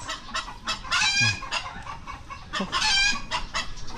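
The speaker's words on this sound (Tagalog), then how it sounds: "Nasa lang umingay man yung manok, siguro nakakita ng babae." Chickens clucking and squawking loudly in repeated bursts, with a rooster-like call rising among them, close by.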